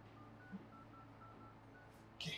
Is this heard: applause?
no